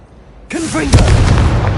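Hogwarts Legacy's Confringo blasting spell erupting suddenly after near silence, a loud close boom with a swooping tonal sweep that trails into a rumbling, crackling burst.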